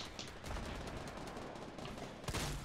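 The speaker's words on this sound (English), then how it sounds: "I love the heavy shotgun." A heavy shotgun fires in a Fortnite 50 v 50 match, with dense, continuous gunfire and explosive bursts filling the scene and a sharp blast rising near the end.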